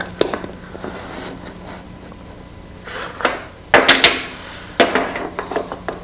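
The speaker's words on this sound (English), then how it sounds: "Now I clamp it temporarily while I bring the blocks into their proper starting position." Wooden stop blocks and clamps knock and clatter at a woodworking saw setup as a test piece is clamped and blocks are positioned: scattered sharp taps, quiet at first, then a cluster of louder knocks near the end.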